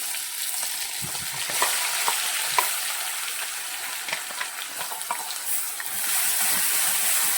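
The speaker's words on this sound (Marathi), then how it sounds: "अगदी आपल्याला दोन ते तीन मिनिट मस्त परतून घ्यायचे आहे कलर चेंज होईपर्यंत" Onion and coriander paste frying in oil with curry leaves for a besan dumpling curry, a steady loud sizzle with faint crackles throughout, growing slightly hissier near the end, close and without voices.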